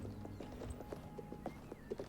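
A horse's hooves clip-clop at a steady walking pace in The Elder Scrolls IV: Oblivion, faint and soft in a quiet mix with no talking.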